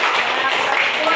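Classmates in a classroom give a short, loud round of clapping, a dense smattering of hand claps with voices talking underneath.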